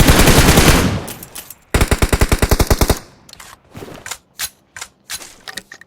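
MG3 machine gun in a BGMI match firing rapid, loud automatic bursts: a dense opening volley, then a clipped string of evenly spaced rounds, followed by scattered sharper shots.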